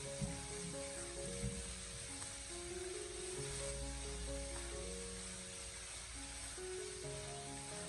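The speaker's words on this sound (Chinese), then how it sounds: "开小火先把它翻炒一下，先把肉末炒散，给它炒至变色，给它炒出多余的一些油脂" Minced pork sizzling and stir-frying in a little oil in a wok over low heat, a soft, continuous frying hiss with faint clinks, fairly quiet and without speech.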